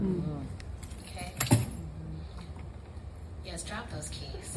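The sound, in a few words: keys jangling, dropped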